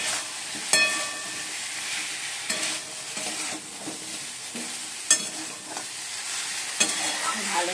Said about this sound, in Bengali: এবার ফুলকপি আর আলু ভাজাগুলো দিয়ে দিলাম